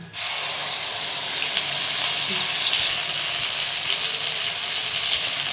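Spice masala for a stuffed modak curry fries in hot oil, a loud, dense, continuous sizzle starting abruptly and holding steady throughout, easing a little partway with faint stirring beneath.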